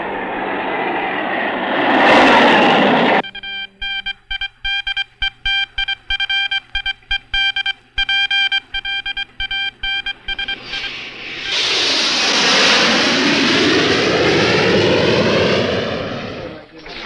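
A loud jet roars past, fades, then returns with a rising rush, separated by a stretch of rapid mechanical rattling.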